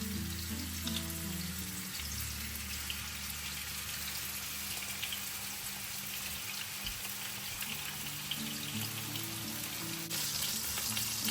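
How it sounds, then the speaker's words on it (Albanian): Doner meat pieces fry in sunflower oil in a pan, a steady crackling sizzle lasting throughout, with a low hum from the stove underneath and a brief rise in sizzle near the end. "Dhe më pas do të skuqim me vaj lule dielli."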